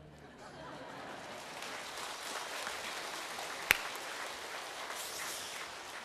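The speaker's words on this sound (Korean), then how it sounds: "아이고 박수 이래 치는데요" Children at a church kindergarten clap together in a sustained, fairly even burst of applause, with a single sharp knock partway through and faint chatter underneath.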